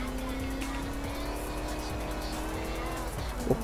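Toretto's race car from Fast & Furious 7, driven in the Forza Horizon 2 video game, holding a steady engine drone with a faint tire squeal at the very end.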